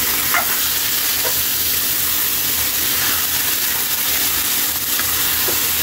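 Pork frying and being stirred in a pan, a steady close sizzle with soft hissing and intermittent scraping stirs throughout, no voices.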